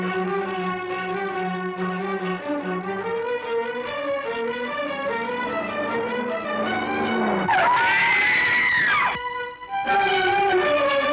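In a film scene, a car's tires squeal loudly for about two seconds as it skids to a stop, cutting through steady dramatic background music that carries on before and after.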